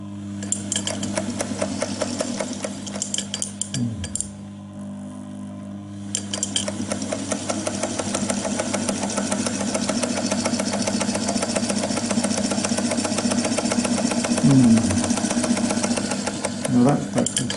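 A vintage DeVry 35mm film projector motor runs steadily with a mechanical whir and chatter, briefly cutting out mid-way before starting up again and running loud and continuous.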